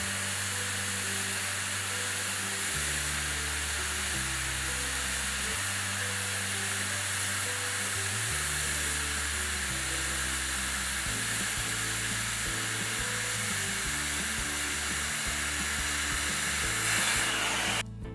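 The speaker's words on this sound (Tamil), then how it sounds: "கேஸ் கட்டிங் முறையில் பிளேட் எட்ஜஸை பெவல் செய்யவும்" A gas cutting torch bevelling the edges of a 10 mm mild steel plate gives a continuous, even hiss, with low tonal hum stepping between pitches underneath and no speech.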